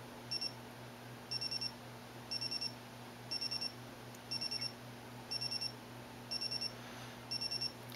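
An iHome electronic alarm clock buzzer beeping in rapid clustered bursts, each group of beeps quicker than before, repeating steadily over a faint background hum.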